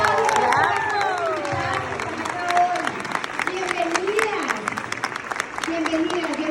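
Audience applauding and cheering for invited guests at a Mary Kay expo, a sustained crowd wash of clapping with voices and shouts mixed throughout.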